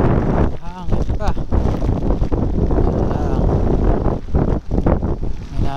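Strong wind buffets the microphone with a heavy, roaring rumble during a Voge 525RR motorcycle ride, while a person speaks briefly over the gusts.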